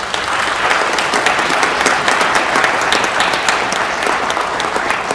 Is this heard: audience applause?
yes